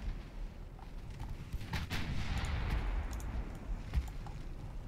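Naval gunfire in the warship game Ultimate Admiral Dreadnoughts, distant rumbling booms and repeated muffled shots rolling over a low continuous roar, no talking.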